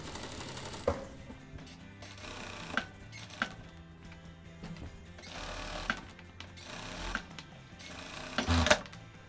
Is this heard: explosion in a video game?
no